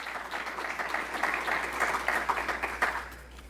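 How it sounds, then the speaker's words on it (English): An audience at a church gathering breaks into sustained applause, a dense and fairly close wash of clapping that holds steady for several seconds before easing off slightly at the end. "So everyone give yourselves a round of applause."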